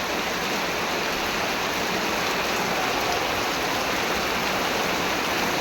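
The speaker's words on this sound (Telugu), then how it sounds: "ఉండంగా ఉండంగా వర్షం ఫుల్ అయిపోతుందండి" Heavy rain pours steadily on a farm where a buffalo is being milked, a dense, constant hiss with no break from start to end and no voices.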